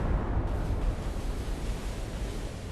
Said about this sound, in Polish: Wybuchła na jego pokładzie amunicja.